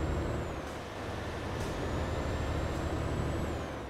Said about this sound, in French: je suis en train de baisser en vitesse